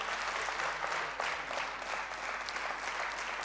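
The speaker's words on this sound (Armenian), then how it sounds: "Այժմ եկեք ծափահարենք մեր երաժիշտներին" Sustained applause for musicians at a televised song show, a dense, even patter of many hands clapping with no talk over it.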